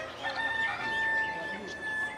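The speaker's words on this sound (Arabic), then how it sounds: "وقفنا على مصدر الأصوات وكانت التفاتتنا على ممر يضم في جوانبه محلات وأقفاص فيها طيور متعددة الأشكال" Rooster crowing among caged birds at a bird market in Taiz, Yemen, a single drawn-out crow with faint chirps and a soft crowd murmur behind it.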